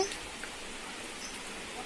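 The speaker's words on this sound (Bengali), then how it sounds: "এই যে বৃষ্টি পড়ছে" Rain falling outdoors on a wet day, a dense, even hiss of drops on surfaces, steady and fairly soft throughout with no distinct individual hits and no speech.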